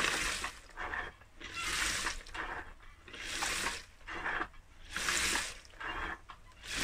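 Water sloshing and churning in a mop bucket as sand is washed off fossils, coming in repeated rhythmic surges about every second and a half, close and fairly steady with no voices.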